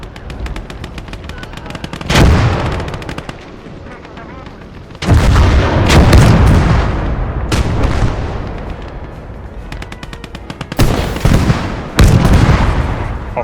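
An anti-tank soldier fires at a Panzer III in the Gates of Hell war game, among loud explosive bursts and booms in several separate blasts, with rapid gunfire rattling between them.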